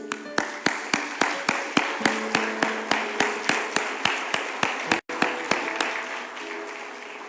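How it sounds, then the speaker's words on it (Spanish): A church congregation claps in steady unison, each sharp clap evenly spaced, with sustained musical tones beneath and one brief break near the end. "yo le pido un fuerte aplauso por Jesús"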